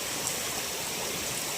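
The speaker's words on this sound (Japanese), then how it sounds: "まあほんまちょっと川がね増水してるんですけど" A swollen mountain stream at a forest campsite rushes steadily in a dense, even broadband roar, close and continuous with no voices.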